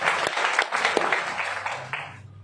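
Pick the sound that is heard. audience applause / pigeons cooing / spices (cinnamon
audience applause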